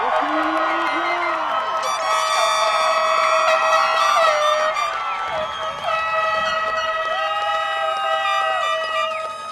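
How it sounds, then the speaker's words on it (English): A crowd at a high school graduation ceremony claps and cheers loudly, with whoops and sustained shouts riding over continuous applause. "Let's give them a round of applause."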